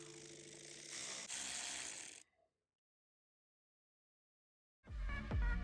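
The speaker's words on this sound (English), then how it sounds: "Now we just need to fasten down our band clamps" A ratchet wrench tightens band clamps on the cold-side piping of a BMW E46 turbo build, clicking steadily and close for about two seconds, then falling silent before another short burst.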